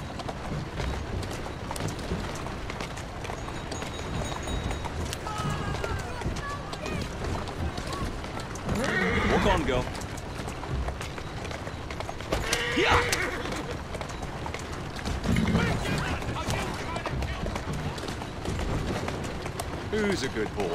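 Horse hooves running steadily in Assassin's Creed Syndicate, with a few brief neighs and bursts of commotion over continuous game ambience while a player talks throughout.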